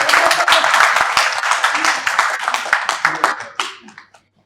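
Scattered clapping from an audience at a digital skills education event, individual hand claps audible in an uneven rhythm, close and fairly loud, thinning out and fading to silence by the end.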